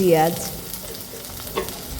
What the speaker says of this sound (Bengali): কড়াইতে তেল দিয়ে প্রথমে আমি রসুন দিয়ে দেব